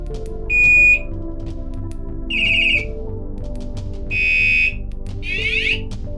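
Four short electronic motorcycle alarm tones play one after another, each a different pattern: a steady beep, warbles and a sweeping siren chirp, separated by brief pauses.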